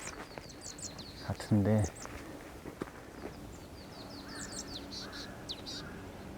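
Thin high marsh tit calls repeat in the background among trees on a hillside, faint and intermittent, while a person speaks briefly nearby.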